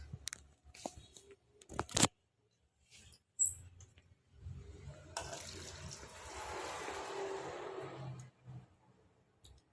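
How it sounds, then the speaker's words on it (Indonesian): Boiling water poured onto peanuts in a bowl for soaking, a steady splashing pour lasting about three seconds after a few scattered clinks and knocks. "masukkan air yang sudah mendidih ini ke dalam kacang tanahnya agar kacang tanahnya bisa direndam selama beberapa menit"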